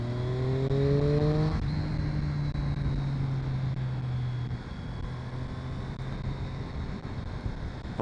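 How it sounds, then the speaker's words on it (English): A 2020 Triumph Street Triple RS motorcycle engine revs up with climbing harmonics while riding, then settles into a steady droning hum under constant wind rush. "So I just rev the engine because it's louder."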